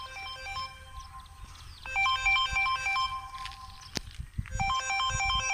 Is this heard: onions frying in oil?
no